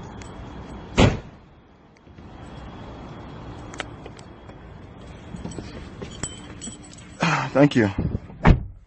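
A car door shuts with a sharp thump early on, then more door handling and clunks follow near the end, with people talking nearby.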